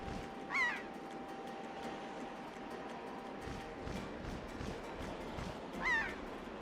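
Two brief seagull squawks from The Legend of Zelda: The Wind Waker, spaced several seconds apart over a low, steady game ambience, fairly faint with no talking.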